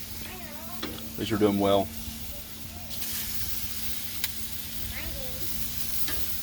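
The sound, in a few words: venison tenderloin searing on the grill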